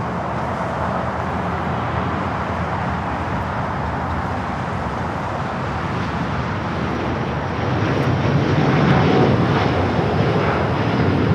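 Porter Embraer E2 jet airliner lining up on runway 25 right at LAX, a continuous distant engine roar that swells louder toward the end.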